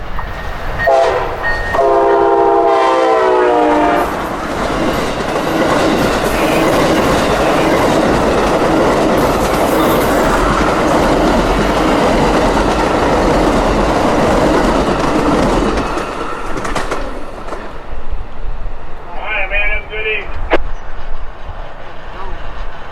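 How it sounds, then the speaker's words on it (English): Amtrak's Silver Meteor passenger train, New York-bound out of Miami, rushes past at track speed with a loud sustained roar and rattling wheels, its horn blowing near the start and again near the end as the sound fades. "It's lit up now for Amtrak 98, the New York-bound Silver Meteor running track speed out of Miami."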